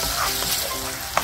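Tomato sauce frying gently over low heat in a pan for a spicy jjamppong pasta, giving a steady soft sizzle throughout with a brief sharp clink near the end.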